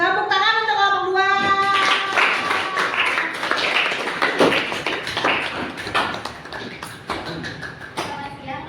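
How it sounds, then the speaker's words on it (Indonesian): A classroom applauds group 2 with a loud, dense patter of clapping and scattered taps. Voices murmur through it, and the clapping fades unevenly toward the end. "Tepuk tangan untuk kelompok 2."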